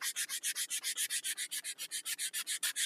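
Rhythmic back-and-forth sanding strokes rasp across wood, about twenty even, quick passes in a steady rhythm, close and fairly loud.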